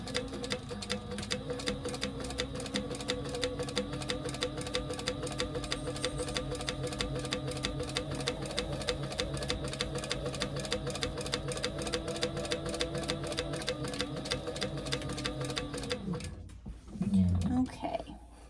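A sewing machine top stitches across a crossbody bag in a continuous, even run of fast needle clatter, close and steady, before stopping with brief handling sounds at the end.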